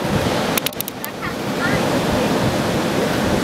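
Ocean surf rolls continuously at Praia do Rosa beach, a dense, loud wash of breaking waves with wind buffeting the microphone and a few brief clicks early on.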